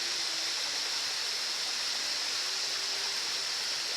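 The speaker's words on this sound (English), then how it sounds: "So this is the first waterfall." A waterfall near Puerto Vallarta roars in a steady, dense hiss of falling water, continuous and fairly close for the whole stretch with no voices over it.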